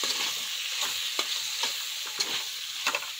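A spoon stirs a vegetable curry with beans frying in oil in a pan, with repeated scraping strokes at an uneven rhythm over a constant close sizzle.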